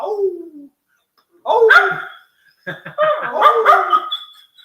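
A dog howls and yips in several drawn-out bursts with gaps between, loud and close, amid a hockey watch party with people nearby.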